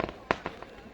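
Firework bursts at a local cricket match between village and taxi union teams in Guptkashi, several sharp broadband cracks, a loud bang near the start of the second and another at the end, with fainter pops between.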